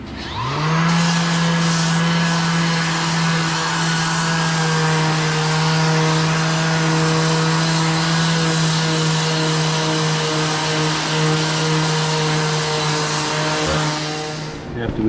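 A power sanding wheel works a boat skeg during a skeg replacement, giving a loud, steady motor whine with a low hum that holds without a break for the whole stretch.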